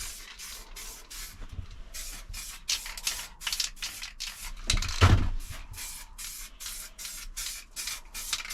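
Short rhythmic spray-can bursts hiss in quick succession as car panels on a Rover Streetwise are spray painted at home. The bursts are close and evenly paced, with a brief louder clatter midway.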